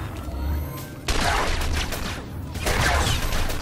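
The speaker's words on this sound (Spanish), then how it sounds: "Venga, con 3 disparos esto se acaba más rápido." Blaster fire in Star Wars: The Old Republic, a Republic Trooper battling droids, as two loud bursts of rapid, crackling shots with a steady game soundscape underneath.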